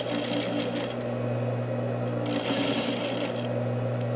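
Sewing machine stitching a rolled hem on fabric with a rolled hem foot, a fast steady mechanical whir with light rattling, running continuously without speech.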